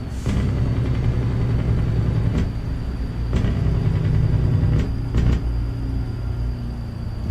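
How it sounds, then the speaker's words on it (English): A truck engine rumbles steadily in American Truck Simulator, with a low drone and gear-shift tones rising and falling as a convoy rolls along. Sharp clicks cut in at intervals. "Oh, I can hear his engine now."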